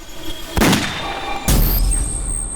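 Two sharp gunshots ring out about a second apart, each a loud crack with a booming tail, close by.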